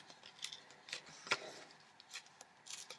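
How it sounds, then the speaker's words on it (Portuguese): Scissors snip paper around a frame shape in a quiet room, with a series of short, crisp cuts at an irregular pace, close and faint. "Vamos cortar assim à volta"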